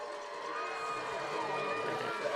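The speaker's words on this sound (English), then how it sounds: "I think you can hear the crowd in the background here, the Northwest faithful," Home crowd of Northwest faithful at a high school football game, a steady broad roar of many distant voices sustained throughout without any sharp peaks.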